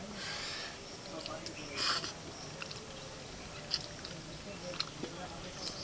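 Someone chews a mouthful of rice with vegetable curry close to the microphone, with soft wet mastication and light breathing. Faint clicks of eating come through, and a little murmured speech runs underneath.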